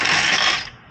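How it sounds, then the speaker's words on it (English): A ratchet wrench clicks rapidly and continuously during rear wheel bearing hub work on a Cadillac SRX, loud and close, then fades in the final moments. "Can use a ratchet."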